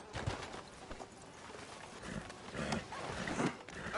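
Horse hooves clip-clop at a steady walk through a western town in a video game, moderately close, with faint ambient noise and no talking over them.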